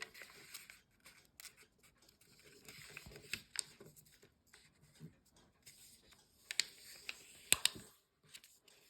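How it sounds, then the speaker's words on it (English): Paper being creased and folded by hand while making an origami pigeon, with soft scattered rustles and a few sharper crinkles and taps near the end, close and quiet with no talking. "let's fold the adjacent edge to the center"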